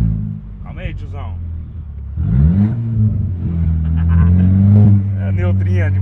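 An Audi engine revs and rumbles loudly through its exhaust, coasting in neutral while moving, with the low drone rising in swells and holding steady throughout as someone talks over it.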